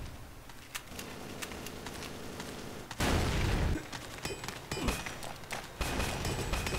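Gunfire and explosions in the blocky shooter Ace of Spades crack and thud at a middling distance in scattered bursts, with one louder booming blast partway through.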